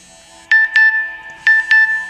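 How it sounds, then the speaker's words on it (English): A mobile phone plays an SMS alert tone triggered by a smart pillbox: two bright double-chime bursts about a second apart, loud and close in a quiet room. "there's the corresponding SMS alert on this phone"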